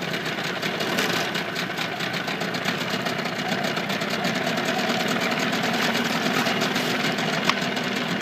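Mercury 25hp electric-start outboard motor idles steadily, a close, even mechanical chugging with a fine rapid rattle throughout, running alone without talk.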